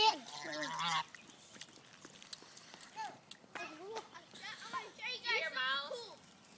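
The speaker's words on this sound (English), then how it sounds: "Stay away from that goose." Geese honk repeatedly nearby, loud nasal calls coming in bursts through the clip, while people talk over and between them.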